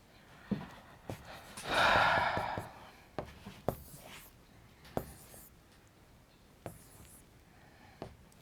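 A pen or marker scratches across a board or paper during a physics lesson, with one dense burst of scribbling about a second long and scattered light taps and strokes before and after. It is quiet, close and has no talking.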